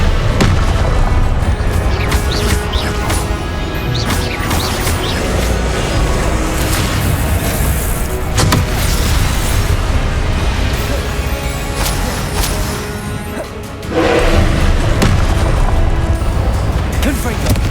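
Repeated Confringo blasting-spell explosions from Hogwarts Legacy boom loudly and almost continuously amid dense combat noise, with a brief lull before another heavy burst.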